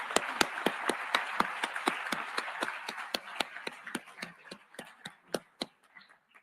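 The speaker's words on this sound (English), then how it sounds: "we have a round of applause to congratulate St Kitts and Nevis" A room of delegates at a UN marine biodiversity preparatory session breaks into applause for St Kitts and Nevis, sharp irregular claps that start strong and thin out to a few scattered hands.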